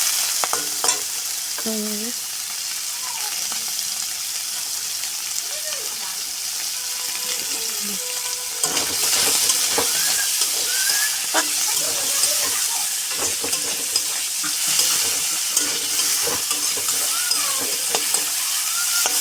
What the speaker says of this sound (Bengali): প্রথমে আমার মনে হয় মাংসগুলো ভেজে নেব